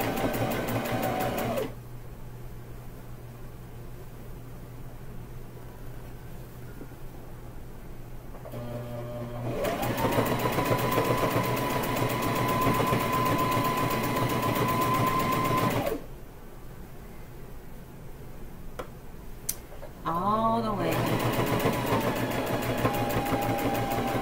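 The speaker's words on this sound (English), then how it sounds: "I'm going to stitch, back stitch, and go all the way down." A sewing machine stitches a rag quilt, running in long loud bursts of rapid mechanical whirring and stopping briefly between runs, with a motor hum in the quieter gaps.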